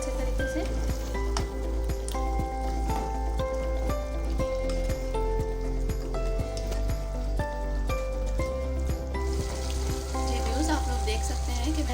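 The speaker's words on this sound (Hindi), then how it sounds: "मैंने चिकन को जो है वो 5 मिनट तक इसको अच्छे से चलाया है।" Chicken with spices sizzling in oil in a pan for a chicken aloo shorba, a steady close frying hiss with occasional stirring scrapes, while music plays alongside.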